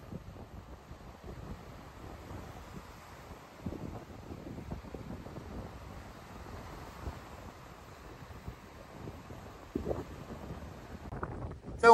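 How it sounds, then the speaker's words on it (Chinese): Wind-driven Mediterranean surf roars against the coast of Lebanon, a steady broadband rush with gusting swells and no voices. "地中海咆哮般的感觉。"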